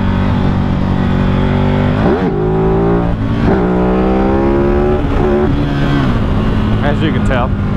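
A motorcycle engine traded in for a Harley revs loudly and close, several rising and falling throttle blips over a rough idle with a steady rumble underneath.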